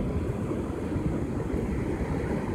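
Powerful surf breaks on a beach with rip currents, a steady broad wash of churning water and wind noise, moderately loud and unbroken with no one speaking.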